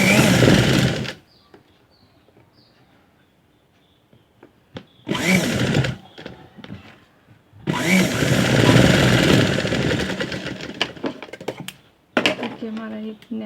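A sewing machine stitches a jacket in bursts: a short run, a pause, another short run, then a long steady whirring stretch that ends in a few brief stops and starts, with quiet handling noise in the gaps.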